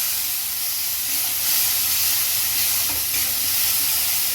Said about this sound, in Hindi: इसी में सारा मसाला डाल के अच्छी तरह से भूनना है